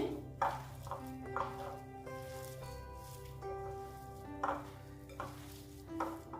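Bread and egg mixture is mixed by hand in a bowl, with soft intermittent squelching and scraping that stays faint under a steady background hum and a few tonal notes.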